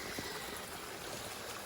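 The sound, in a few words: small stream flowing out of an old rock wall dam in the woods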